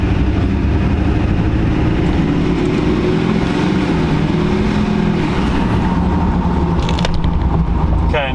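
A Duramax diesel pickup engine runs loud and steady as it builds into turbo boost, a constant heavy drone with a faint rising whistle near the middle and a brief hiss toward the end.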